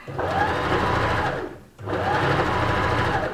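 A sewing machine runs a long straight stitch down a length of fabric made from upcycled old clothes. The motor hums steadily and loudly, pauses briefly, then carries on at the same even pace.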